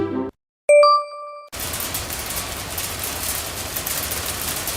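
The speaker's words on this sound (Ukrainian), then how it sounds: "Це град." Hail rattles down in a dense, steady clatter of fast hard impacts, loud and continuous. It is preceded by a brief voice and a bright chime.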